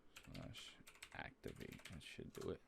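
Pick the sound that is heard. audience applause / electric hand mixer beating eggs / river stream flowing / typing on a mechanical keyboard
typing on a mechanical keyboard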